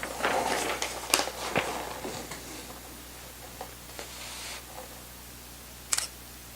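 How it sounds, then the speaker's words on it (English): A camera photographs a sheet of white paper at a shutter speed of 1/640 s and f/5.6. A few crisp shutter clicks come close up against quiet handling noise, with one sharp click near the end. "I'll now photograph the white paper on its own."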